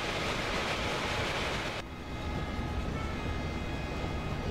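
An Indian Railways train in the Open Rails simulator, the locomotive Doctor Silver hauling the Jammu Tawi–Bandra Terminus Vivek Express, reverses into a platform with brakes released, giving a steady loud broadband rumble and hiss that briefly dips midway, then continues.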